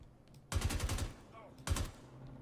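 Two short bursts of automatic gunfire from a gun in the video game Star Citizen, each a quick rattling string of shots separated by a brief quiet gap, with low background hum between.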